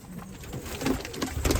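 Pigeons coo softly in a loft, low throaty calls repeating through a short stretch with faint rustling behind them.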